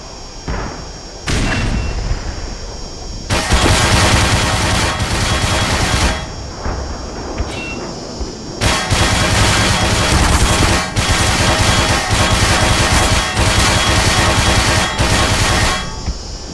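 Gunfire at turrets in Black Mesa: loud, sustained rattling bursts of automatic fire fill the scene, broken by a few short pauses, with dense booming and clatter throughout.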